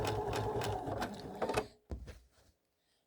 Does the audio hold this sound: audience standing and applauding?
no